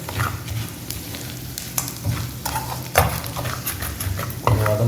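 Three dried red chillies fry in oil for a Tamil murungai keerai paruppu kuzhambu, giving a steady close sizzle broken by scraping stirs and occasional louder pops, with no voices.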